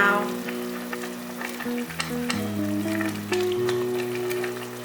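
Green peppers stir-fried in a wok with eggplant and tofu for a vegan home-style dish, a continuous close sizzle with light stirring clatter beneath quiet background music.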